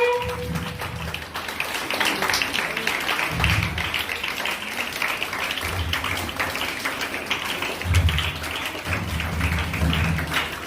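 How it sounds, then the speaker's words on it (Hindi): An audience at a school Independence Day celebration claps in sustained, fairly distant applause, with scattered tapping textures and intermittent low thumps underneath. "ताली बजती रहना चाहिए, अभी स्वागत हो रहा है।"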